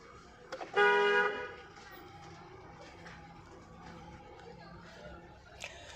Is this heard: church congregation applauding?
no